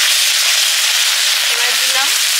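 Black cumin seeds sizzle loudly and evenly in hot mustard oil, a dense hissing crackle throughout, with a faint voice murmuring underneath near the end.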